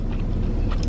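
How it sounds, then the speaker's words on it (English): A single close bite goes into a crunchy Shake Shack hamburger, a brief, muffled crunch and chew heard up close with no talking. "It's like crunchy hamburger with juicy vegetable inside"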